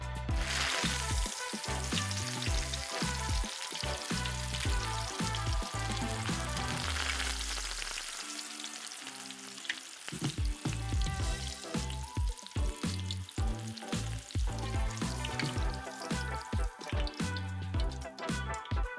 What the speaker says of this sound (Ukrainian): Перевертайте і обсмажуйте з двох сторін, щоб у нас була соковита гарна скоринка.